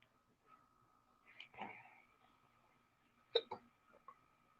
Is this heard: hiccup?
yes